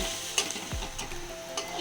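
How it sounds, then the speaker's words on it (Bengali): Chopped garlic and green chilli fry in a pan, a soft continuous sizzle with a few brief stirring clicks over a short stretch, fairly quiet and without talk. "রসুন কুচি আর কাঁচা লঙ্কা কুচি এটা দিয়ে একটুখানি গোল্ডেন কালার করে নেব, একটু ভেজে।"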